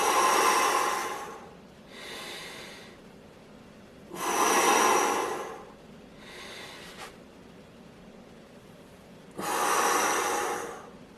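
Three strong inhalations of breath during a shoulder mobility exercise, each about a second long and close to the microphone, with quieter exhalations between them and no talking.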